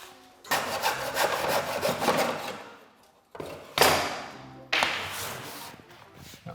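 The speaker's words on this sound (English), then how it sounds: "I'm going to cut them at 45 by using a hacksaw blade and this little mitering block." A hacksaw blade cuts nursery trim at 45 degrees in a small mitre block, heard as close, rasping back-and-forth strokes in two bursts broken by a short pause.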